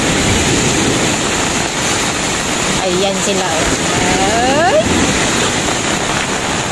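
Sea waves crash and wash continuously along a white-sand beach at Masbate during a storm, a loud, dense roar with wind buffeting the microphone and a voice speaking briefly over it.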